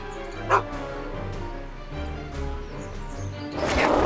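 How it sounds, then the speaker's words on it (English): A dog barks and yips in the video game Back to the Future: The Game, short bursts spread across the moment over a game music bed, with a louder crash near the end. "Get away from me, you crazy mutt! Go away, dog."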